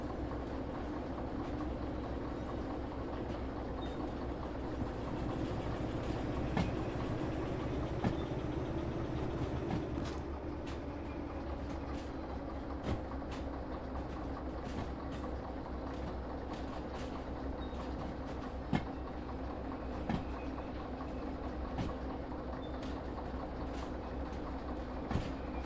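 Railcars being shunted onto a siding in a train simulation game, heard as a steady low engine rumble and rolling rail noise with scattered clanks and knocks over about twenty-five seconds, no talking.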